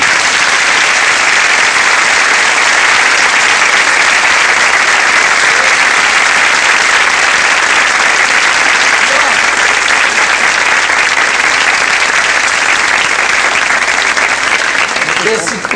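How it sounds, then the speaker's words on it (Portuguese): Loud, dense studio audience applause on a 1993 Brazilian late-night talk show, steady and continuous throughout. "Uma salva de palmas aqui."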